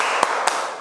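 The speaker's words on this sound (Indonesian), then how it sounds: "Kita tepuk salut dulu ya Kak." Children in a church give a salute-style clap, two sharp, brief claps spaced apart over a steady background hum.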